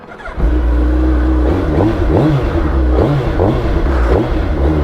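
A 2021 Kawasaki ZX-10R sportbike engine idles close and loud, then blips through several quick throttle revs that rise and fall in pitch, with no talking.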